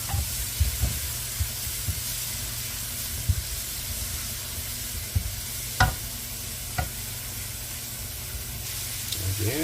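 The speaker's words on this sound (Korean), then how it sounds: "좀 파랑 당근 먼저 볶아주시고요" Green onion and carrot, later joined by shrimp, stir-fry in a hot pan with a steady loud sizzle and hiss, punctuated by scraping stirs and utensil knocks close by.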